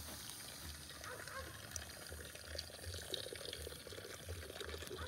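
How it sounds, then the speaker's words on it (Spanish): Water is poured from a container into a cooking pot while preparing atole de masa with blueberries and oats, a soft, steady liquid rush that stays fairly quiet and continuous throughout. "aquí le voy a poner como un litro de agua"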